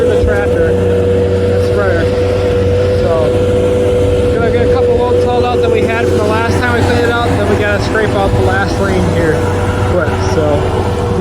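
A farm tractor engine drones steadily with a low hum throughout, loud and close, with people talking over it.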